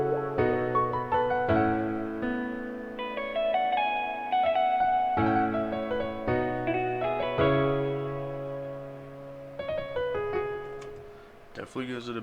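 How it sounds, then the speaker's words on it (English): A sad, emotional hip-hop beat made in FL Studio 20 plays on its own: sustained melodic instrument lines and chords with reverb added, leaving a soft echoing tail that fades at changes and ends in a brief glitchy burst. "now that I added the reverb to the instruments, here's how it sounds."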